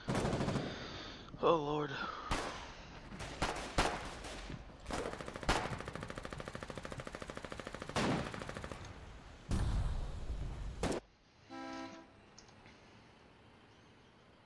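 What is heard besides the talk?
machine gun firing in a video game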